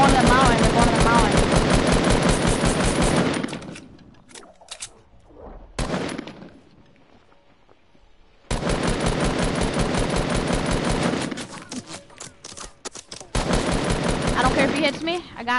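Bursts of automatic gunfire from a console shooter game, with rapid machine-gun volleys that come in long stretches, stop for a few seconds of near quiet with scattered single shots, then return loud and sustained.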